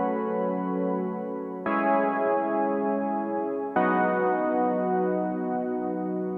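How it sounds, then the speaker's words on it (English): The main piano part from a song mix, playing three sustained, richly layered chords in succession, each struck cleanly and held steady, played alone without voices. "And then we've got the main piano here, which sounds like this."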